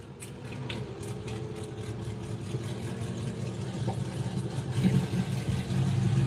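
A Mitsubishi Eclipse fitted with an aftermarket exhaust kit idles close by, a steady low rumble that swells slightly toward the end, with no talking over it.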